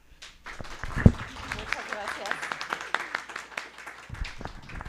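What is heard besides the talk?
audience applause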